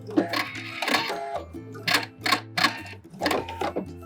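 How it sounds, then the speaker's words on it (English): A sewing machine stitches a V-neck seam with backstitching in short bursts of rapid mechanical whirring. The bursts are split by brief pauses, loud and close. "Let's sew up where I chalked. Make sure you backstitch."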